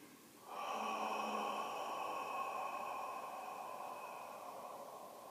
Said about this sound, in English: It's called Ujjayi breathing